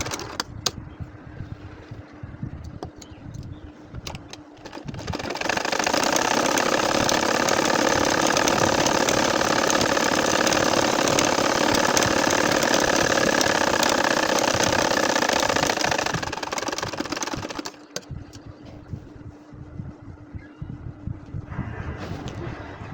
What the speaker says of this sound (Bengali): এখন দেখেন একইভাবে আমি 3 নাম্বার লাইনটাও সেলাই করে নিচ্ছি